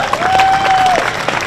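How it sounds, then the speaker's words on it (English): Short burst of audience clapping at a junior livestock show, loud and close with a murmuring crowd and a faint whistle-like tone over it. "Let's give him a nice round of applause."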